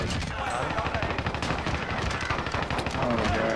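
Rapid bursts of enemy gunfire in a video game rattle almost continuously, dense overlapping shots at a fairly close, loud level.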